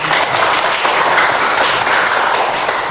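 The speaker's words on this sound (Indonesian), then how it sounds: "Tepuk tangan dulu untuk teman." A class of students applauds a classmate during a long jump lesson, a loud, close, continuous burst of many hands clapping that stays even throughout.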